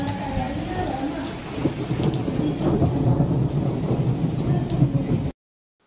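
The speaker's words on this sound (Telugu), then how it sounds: "ఒకవైపు ఎండ కొడుతూనే ఉంది, మళ్ళీ వాన ఫుల్ కొడుతుందనమాట" Heavy rain pours continuously with rumbling thunder beneath it during a daytime downpour that may carry hail, loud and close, before cutting off abruptly into silence.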